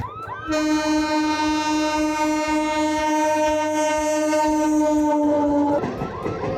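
A train horn blares at the Sonarpur railway crossing in fog, a long, loud, steady multi-tone blast that cuts off abruptly, with the rumble of the train passing close underneath.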